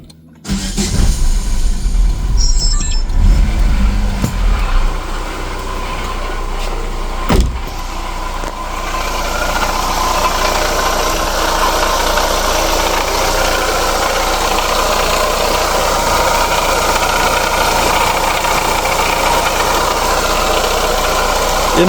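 A Chevrolet Lacetti engine starts and settles into a steady, loud idle close by, with a faint rhythmic knocking attributed to a failing water pump running under the engine drone.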